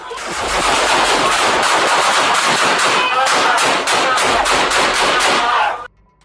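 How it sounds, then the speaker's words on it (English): Rifle gunfire in an indoor firefight with police officers, rapid sustained bursts of loud close shots echoing in a confined space, then cutting off sharply. "He immediately opens fire on the officers."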